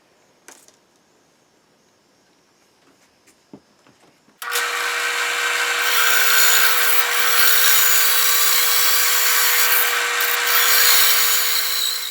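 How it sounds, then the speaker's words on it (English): A few quiet handling clicks and taps, then a bandsaw starts and runs steadily, loud and close, as it cuts into wood to widen a slot in a whirligig part, a continuous whining hum that holds for about eight seconds. "I'm just going to take the bottom pieces over to the bandsaw and widen this slot a little bit."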